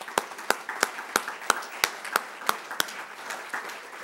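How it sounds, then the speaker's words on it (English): A handful of people in a legislative chamber clap sparsely and unevenly, about a dozen distinct hand claps spread across a few seconds at moderate distance, with no talking over them. "I want to salute you with a round of applause for a job well done."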